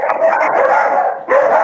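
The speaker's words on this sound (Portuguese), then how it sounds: "Aí tem um monte de cachorro aqui." Several dogs bark close and loudly in a continuous overlapping stretch, with a brief dip before another burst, and no talk over it.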